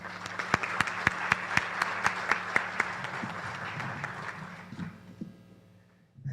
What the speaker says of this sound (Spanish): Recibamos con un fuerte aplauso al Magíster Nelson Gutiérrez.